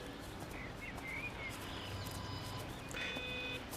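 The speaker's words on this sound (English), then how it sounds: "I hear that telltale beeping" Telltale electronic beeping in the video game Everybody's Gone to the Rapture, a pair of thin high tones near the end over a faint, hushed ambient background with brief chirps earlier.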